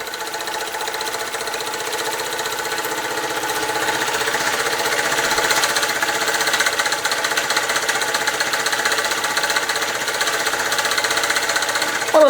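A small British overtype model steam engine runs steadily with a fast, even chuffing and mechanical clatter, close by and continuous throughout, with no talking.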